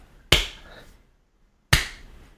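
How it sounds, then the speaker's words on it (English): Two sharp, isolated hand claps spaced well over a second apart, a slow deliberate clap done in jest, close and fairly loud with quiet between them and no talk. "I'm gonna do the slow clap"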